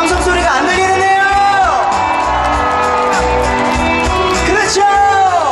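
A concert crowd at an outdoor festival roars and whoops continuously, loud shouts and wavering high cheers sliding up and down, with a voice amplified over the noise.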